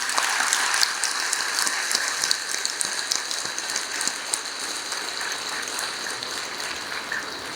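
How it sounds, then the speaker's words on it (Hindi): Large congregation clapping steadily during a religious discourse at a Radha Krishna temple, a dense continuous wash of many hands with no pauses, fairly loud and even throughout. "इतने लोग ताली बजा रहे हैं"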